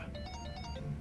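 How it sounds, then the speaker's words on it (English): A mobile phone ringtone rings in the video game Like A Dragon: Infinite Wealth, a steady repeating electronic melody over low background hum, with no talking. "Your phone's ringing."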